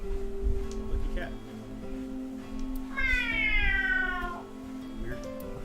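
A person imitates a cat's meow at a lucky cat statue in the game AI: The Somnium Files; a single drawn-out, rising-then-falling meow sounds mid-clip over a quiet game background hum.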